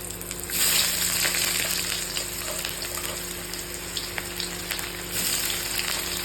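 Onions go into hot smoking oil with whole garam masala for a chicken curry. A loud, close sizzle swells and keeps crackling, with a few clinks of stirring and no talk.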